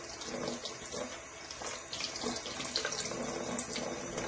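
Tap water runs steadily into a sink while a makeup brush is rinsed, a soft continuous splashing stream heard close and alone, with slight changes as the brush moves under the flow.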